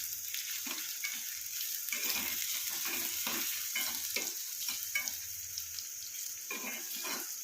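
Indian gooseberries fry in oil until crisp while being stirred, a continuous soft sizzle broken by repeated scraping stir strokes, fairly quiet and close.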